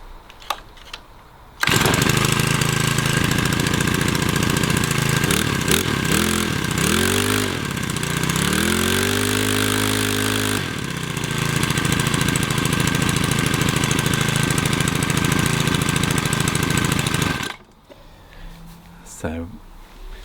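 Makita EN4950H four-stroke petrol hedge trimmer, starting abruptly and running loud and close with a steady engine drone that rises and falls in pitch as the throttle changes, then cutting off near the end.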